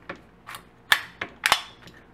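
A 40 XP blowback CO2 BB pistol fires several sharp, snappy shots with short gaps between them, nearby. Quieter clicks of the blowback action fall between the louder reports.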